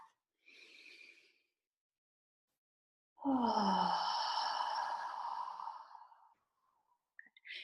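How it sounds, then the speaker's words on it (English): A slow, deep breath, with a brief inhale followed by a long, loud exhale that lasts about three seconds, heard close and alone in an otherwise quiet space. "Take a nice deep breath."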